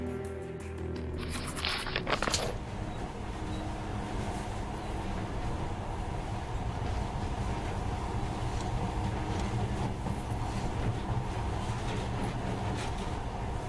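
A monorail train in the video game Metro Last Light Redux runs with a steady, loud rumbling drone and rattle that fills the scene, following a brief higher burst at the start.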